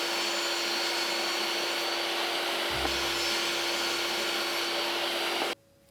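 Power tool cutting a wooden cabinet board into narrow pieces for a breaker cabinet, a steady loud whine with a deeper cutting load in the middle, then stopping abruptly at the end.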